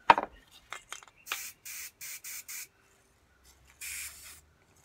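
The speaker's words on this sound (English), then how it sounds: "This thing's about out of spray paint." A nearly empty spray paint can releases several short, hissing bursts of paint for camouflage texturing, each spurt brief and sputtering, with a longer final spray, close and otherwise quiet.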